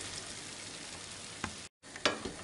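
Continuous sizzling and crackling of beef searing in a hot pot, close up, with a brief dropout and a few sharper pops.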